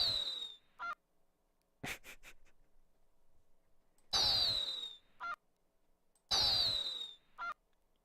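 A goose-like honk goes off with each shot of a weapon in the Doom video game. Three loud, close honks ring out a couple of seconds apart, with short clicks and thumps between them over a quiet background.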